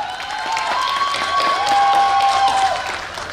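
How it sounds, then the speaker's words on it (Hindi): A TV dance show launch audience claps and cheers loudly and continuously, with whistles rising over the dense applause for a few seconds. "तालियां रुकनी नहीं चाहिए"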